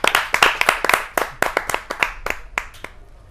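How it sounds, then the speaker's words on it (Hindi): Loud applause greets a poet at a Hindi poetry gathering, a small audience clapping in quick, sharp, uneven bursts close by, tapering off toward the end. "जोरदार तालियों से आमंत्रित कीजिए प्रवीण आर्य जी"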